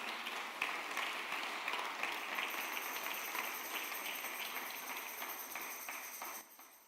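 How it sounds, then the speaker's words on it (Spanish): A church congregation claps together in a sustained wash of dense applause that holds steady for several seconds before tapering off at the end. "Aplauda al Señor."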